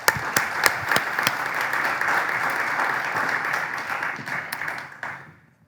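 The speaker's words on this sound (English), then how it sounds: "Could we give them all a big round of applause?" Audience applause after thanks to the organizers of a parks rezoning panel event, steady clapping across the room for about five seconds, then fading out quickly.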